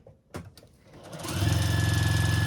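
A sewing machine stitches layered fabric for a quarter-inch seam, starting after a brief click and settling into a loud, fast, steady mechanical chatter close by.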